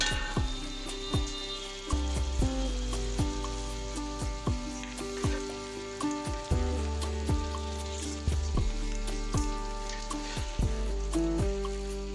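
Chunks of beef hit a pan of hot spice paste for a potato beef curry and fry in a steady sizzle, with sharp spoon knocks and stirring clatter recurring close up throughout.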